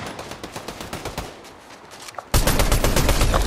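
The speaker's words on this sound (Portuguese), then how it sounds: "Tem gente atirando já." Video game gunfire erupts in quick bursts of crackling shots, which then swell into a loud, dense, sustained volley of rapid automatic fire up close.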